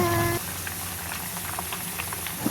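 Sugar syrup with cinnamon sticks and raw mangoes bubbles in a pan for mango morobba, a steady close boil with a brief tonal sound at the start.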